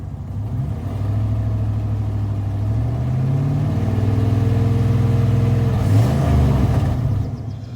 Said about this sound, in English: the muffler come away from the tailpipe a little bit, and so now it's got that kind of psh, you know, every time the motor cycles